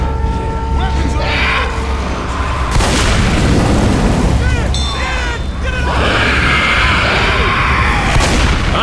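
A thrown bomb explodes in Left 4 Dead 2 on the No Mercy campaign at Expert difficulty: loud, rolling booms with bursts of gunfire and shouting character voices over continuous game noise.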